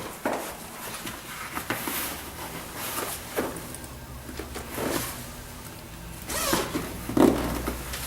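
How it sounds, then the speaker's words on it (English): A zipper on the backrest pad of a Human Touch Gravis massage chair is pulled open in several short rasping strokes, with fabric rustling and handling noises between them, close by. "and then open the backrest zipper."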